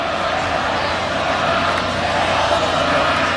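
A football crowd at a 2011 OUA game between Queen's and No. 1 Western reacts against a referee's penalty call, a steady, distant roar of many voices filling the stadium without a break.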